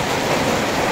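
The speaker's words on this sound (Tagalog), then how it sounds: "Ayan po, naulan na naman." A brief burst of steady, dense rain hiss, even and unbroken, with no voices.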